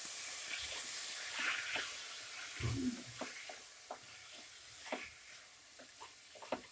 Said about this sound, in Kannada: ಈ ಎಣ್ಣೆಯಲ್ಲಿ 1-2 ನಿಮಿಷ ಫ್ರೈ ಮಾಡ್ಕೊಳ್ಳಿ.